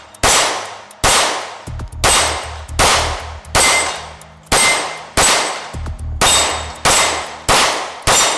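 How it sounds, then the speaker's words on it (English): Repeated bullet strikes ring off a Shooting Targets USA steel dueling tree at a shooting range, fired from a Sig P365 X-Macro Comp pistol. Each shot and sharp metallic clang lands in a steady rhythm of about ten impacts, loud with ringing decay. "we have a dueling tree made by Shooting Targets USA"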